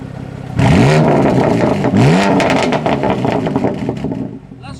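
A tuned BMW M2 Competition with its exhaust valve open, revved twice in quick rising blips to about 4000 rpm, loud and close, then settling into a rumbling idle with crackles.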